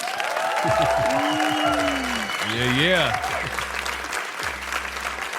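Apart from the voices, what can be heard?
audience applause for podcast guest Ray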